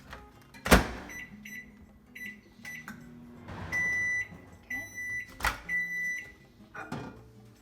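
A microwave oven runs with a low steady hum while melting ingredients for lemon ricotta pancakes. Sharp clacks and clunks of the door and cupboard sound nearby, and repeated high electronic beeps ring out several times.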